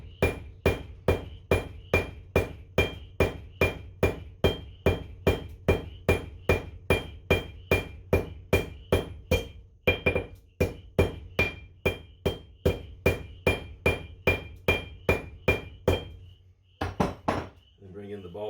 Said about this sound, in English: And I'm going to use my cross peen hammer to kind of draw out this end.